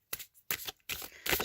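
A deck of playing cards gets an overhand shuffle held vertically, producing four quick, crisp riffling bursts up close, separated by short silent pauses.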